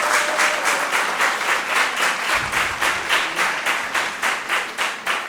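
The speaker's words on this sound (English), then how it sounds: "Let's give them a round of applause." Audience at a school quiz competition gives the teams a round of applause, crisp clapping that settles into a rhythmic, evenly pulsed beat and stays fairly loud for the whole stretch.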